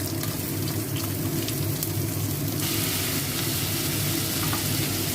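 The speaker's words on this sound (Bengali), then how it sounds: "আগে আমি পেঁয়াজ দিয়ে দিচ্ছি।" Onions hitting hot oil in a pan while cooking a chicken heart curry, a loud continuous crackling sizzle that holds steady throughout with no voices.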